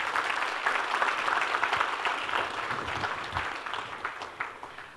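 Keynote audience gives a round of applause, dense clapping that holds steady, then thins and tapers toward the close.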